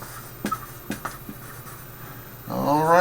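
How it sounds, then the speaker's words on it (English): Marker strokes scratch across a classroom board in a few quick, close bursts, followed by a person beginning to talk. "So let's just kind of write those words."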